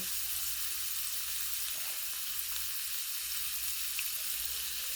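Mushrooms hiss in a hot frying pan for a crab omelette, a steady bright sizzle holding even throughout with no voices over it.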